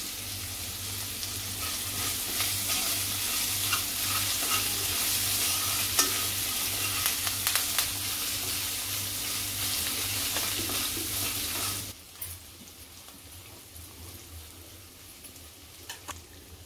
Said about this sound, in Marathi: कढीपत्ता घालते।